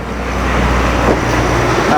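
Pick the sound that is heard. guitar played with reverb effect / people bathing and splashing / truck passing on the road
truck passing on the road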